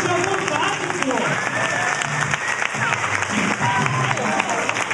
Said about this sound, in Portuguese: Uma salva de palmas, Fabiana, aqui, gente!